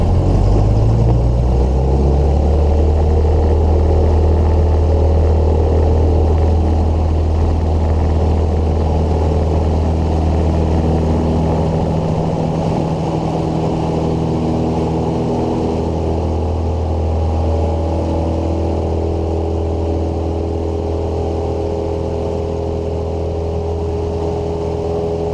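A light aircraft engine drones loud and steady throughout a touch-and-go takeoff. Its low tones climb in pitch at the start as power comes up and hold a constant roar after that.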